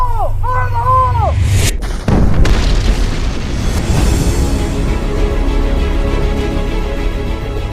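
Air Force EOD technicians set off a controlled explosion, a sharp loud boom that gives way to a long heavy rumble and rolling echo, following whistled-like tones at the start.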